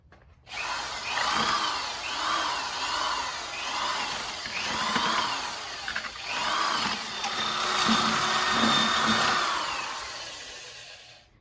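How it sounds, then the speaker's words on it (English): An electric drill fitted with a paint mixer attachment whirs continuously while stirring mortar, its pitch rising and dipping with the load over about ten seconds, close and loud, with no talking. "I'm going to use my drill with the paint mixer on the bottom to mix it up."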